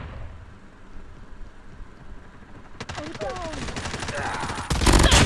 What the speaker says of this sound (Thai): โอ้เสียงสไนแล้ว